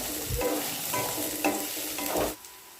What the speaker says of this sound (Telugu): తర్వాత ఉల్లిపాయలు వేసుకుందాం ఉల్లిపాయలు పచ్చిమిర్చి కలపెడదాం